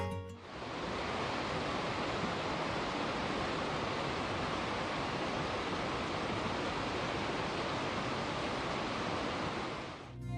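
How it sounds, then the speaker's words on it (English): Rushing mountain stream in the Pinaleño Mountains of southern Arizona, swollen after monsoon rains, giving a steady, loud broadband roar of running water that holds unbroken for about ten seconds with no voices. "we couldn't resist stopping to watch and listen to this rushing stream"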